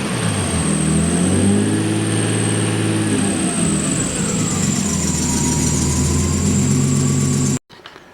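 A Nissan RB20DET turbo engine in an S13 chassis runs just after its first start on an Ecumaster Classic ECU, with imperfect throttle response. It holds a loud, continuous, close-up idle with a steady low drone and slight wavering in pitch.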